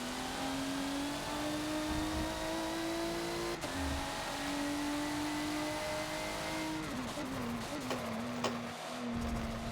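A race car engine in Forza at Bathurst, droning steadily at high revs, then dropping through several quick downshifts with revving blips near the end; loud and continuous, with no talk.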